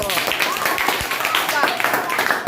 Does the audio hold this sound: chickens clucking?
no